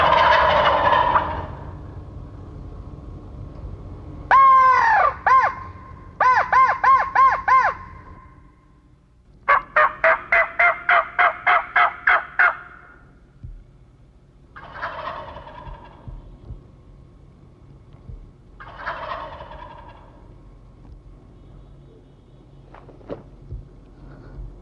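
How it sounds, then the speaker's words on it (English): Wild turkeys gobbling in spring, several loud rattling gobbles in separate bursts close by, then fainter calls farther off, with quiet gaps between them and no talking. "you're going to hear turkeys gobbling"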